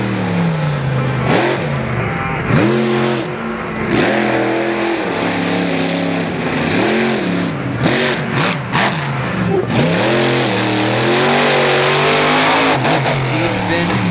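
A General Tire-sponsored monster truck revs hard through a freestyle run at a 4-Wheel Jamboree Nationals event in Indianapolis, its engine surging and dropping in repeated loud roars while an announcer talks over it and the crowd noise swells.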